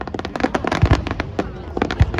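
Fireworks launching at the Iizuka summer fireworks festival in Japan, with repeated sharp pops and booming bursts in irregular clusters, loud against crowd noise and talk.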